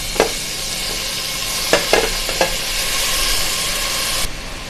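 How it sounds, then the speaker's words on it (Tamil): Chopped tomatoes sizzle in hot oil in a pot for chicken biryani, with a steady frying hiss throughout and a few sharp, close scrapes and knocks of a spoon stirring the pan. "அதுக்கப்புறம் தக்காளியை போடுவோம்"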